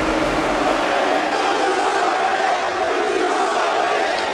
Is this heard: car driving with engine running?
no